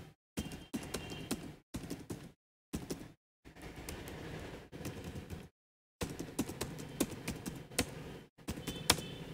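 Random marks being typed as numbers into a spreadsheet on a computer keyboard: bursts of steady, close key clatter broken by several short silent gaps, and no voices.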